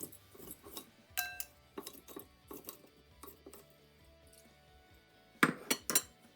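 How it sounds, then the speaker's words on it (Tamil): A jar of homemade lemon pickle has its lid handled and closed, giving a series of sharp clinks and taps with a louder cluster near the end, close by and with no voices. "இப்படி மூடியால் மூடி வைக்கணும்."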